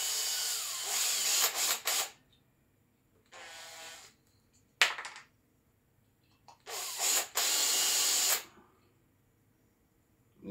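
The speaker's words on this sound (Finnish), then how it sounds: "Ja pystyy poraa tänne." Power drill run in short bursts during home renovation, whirring loudly for a second or two at a time, then stopping, with a ratcheting click between runs and quiet pauses.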